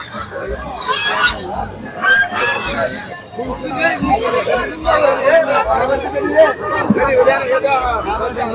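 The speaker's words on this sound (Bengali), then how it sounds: "ওই যে পাখি আছে দেখেন কত পাখি" Lots of birds chirping and squawking together over a busy crowd murmur at the Tongi bird market, with people talking throughout.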